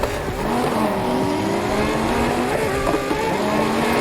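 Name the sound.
turbocharged car engine in Need for Speed Heat video game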